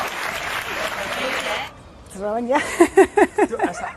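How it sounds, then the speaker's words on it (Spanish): Audience applause at a saloon show at Port Aventura, a short burst of clapping for a dancer that fades out, followed by a voice speaking over the room. "Un fuerte aplauso para ella."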